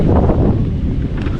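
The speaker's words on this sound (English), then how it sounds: "It's kind of windy. Apologize for the wind" Heavy wind buffets the microphone outdoors on a Florida crabbing trip, a loud, steady low rumble with no break and no talking.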